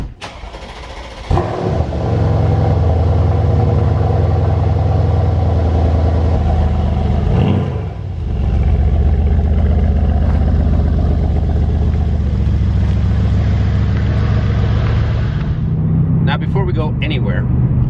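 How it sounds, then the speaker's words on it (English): A Mercedes C63 cold-starts with a sharp crank and loud bark, then settles into a heavy, steady high idle that briefly dips and surges before easing off near the end; a voice speaks briefly. "we haven't had a cold start in a little while"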